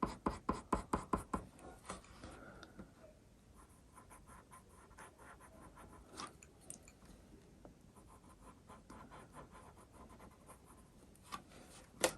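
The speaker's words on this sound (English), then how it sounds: "Just doing it with the pencil strokes going in the direction of the fur" Coloured pencil strokes on paper while drawing a spaniel's black fur, opening with a quick run of sharp, regular scratchy strokes and then settling into softer, irregular rubbing and scratching, close and fairly quiet, with no voices.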